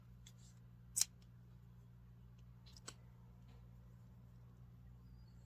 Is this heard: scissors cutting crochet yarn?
yes